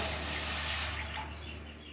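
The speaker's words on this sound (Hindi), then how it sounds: "1 कप पानी डालें" A cup of water is poured into a heating pan for a sour-sweet raw mango chutney, a soft, close trickling splash that tapers off after about a second.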